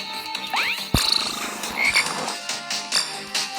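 A frog croaks in the PK XD video game, a loud close croak followed by a string of shorter croaks and chirpy game effects, with no talking.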